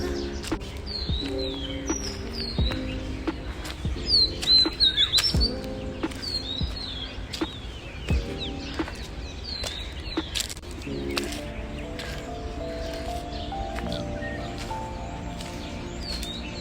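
Small birds chirp near a quarry lake in Daman, with scattered high, quick tweets and calls repeating across the stretch over a quiet outdoor background with some low tonal sounds.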